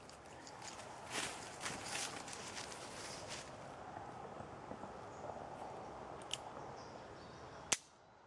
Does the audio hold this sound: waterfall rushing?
no